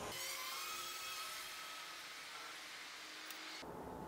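A DJI Mavic Pro drone fitted with low noise propellers flies at full throttle about 200 feet up, making a faint, high, steady whine. The whine drifts slightly in pitch, then cuts off abruptly near the end.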